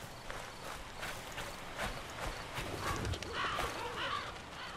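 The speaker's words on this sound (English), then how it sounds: "Damn birds." Crows cawing in the horror video game Slender: The Arrival, a series of harsh calls over a bed of rustling noise and footsteps, growing busier toward the end.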